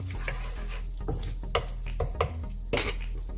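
A spoon scrapes and clinks around a metal pan while spices are mixed over a medium flame for moong daal kachori filling, giving a few scattered stirring taps and scrapes under a steady low hum.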